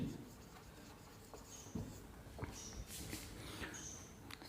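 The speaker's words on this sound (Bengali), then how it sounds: "লিখে দিচ্ছি।" Pen writing on paper during a trigonometry lesson makes faint, quiet scratching strokes and light taps close to the microphone, with no speech.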